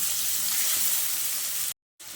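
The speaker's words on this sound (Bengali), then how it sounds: "আবারও খুব ভালোভাবে আমি টমেটো আর ক্যাপসিকাম খুব ভালোভাবে নাড়াচাড়া করে নেব।" Chopped tomato and capsicum frying in a pan as they are stirred, a steady hissing sizzle that cuts out abruptly for a moment before resuming, moderately loud and close with no talking.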